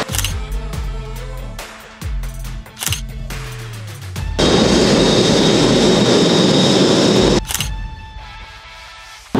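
A loud jet airliner engine roar on the Istanbul Airport apron holds steady for a few seconds between rhythmic mechanical pulses and clicks, then cuts off abruptly.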